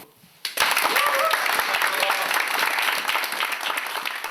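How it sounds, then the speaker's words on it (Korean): Air force unit members break into loud, sustained applause that starts abruptly and fills the room, with brief voices mixed in. "박수 한번 치고"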